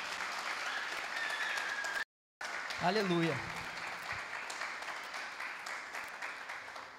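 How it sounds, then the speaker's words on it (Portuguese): Steady applause from a church congregation fills the room, with a brief break and a single voice calling out over it before the clapping carries on evenly. "Você pode aplaudir o Senhor por isso?"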